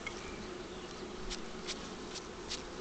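Honeybees buzz steadily around a beehive, a close, dense insect drone with a few louder passes as single bees fly near, heard alone with no voices.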